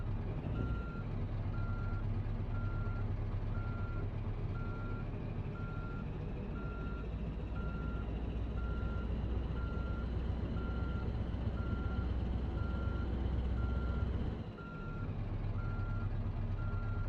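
A truck reverses in Euro Truck Simulator 2, its backup alarm beeping in a steady, evenly spaced rhythm over a loud, continuous diesel engine drone, with a brief air-brake hiss near the end.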